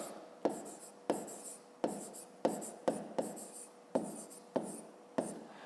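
A pen scratches across paper in short, evenly spaced bursts, about nine quick strokes close up, while someone writes out a fifth-grade math exercise by hand in an otherwise quiet room.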